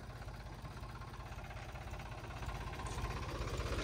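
A tractor engine idles nearby with a steady, rapid knocking pulse that swells slightly louder toward the end, with no talking over it.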